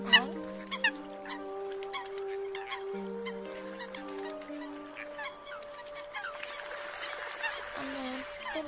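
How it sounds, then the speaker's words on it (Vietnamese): A recorded call of the Eurasian coot, a migratory bird, with repeated honking notes and sustained tonal cries in steady overlapping phrases, some sharp accents near the start. "tất cả các loại tiếng chim di cư mới nhất theo năm tháng"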